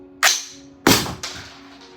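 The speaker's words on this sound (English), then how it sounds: "Bolt release." Sharp mechanical snaps from the ambidextrous bolt release on an airsoft rifle, three clacks in two seconds, the first two loud and crisp, the last softer, each trailing off quickly, close up with no talking.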